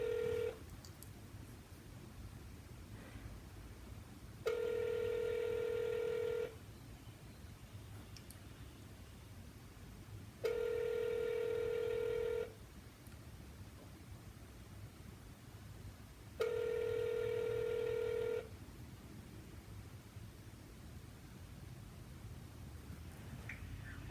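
An outgoing phone call rings on the line: three evenly spaced two-second ringing tones, separated by about four seconds of soft line hiss.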